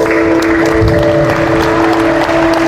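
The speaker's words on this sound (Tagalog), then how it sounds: "Ibigay yung palakpak na the best sa Lord." A congregation claps steadily throughout a worship service in Salawag, Dasmariñas, Cavite, with loud, continuous applause running over sustained musical tones.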